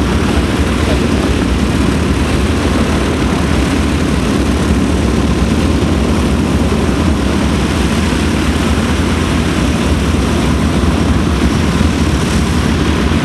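A SIAI-Marchetti SF.260 single-engine propeller plane at an airshow runs with a loud, steady droning roar, a continuous dense engine and propeller noise that fills the whole stretch without pause.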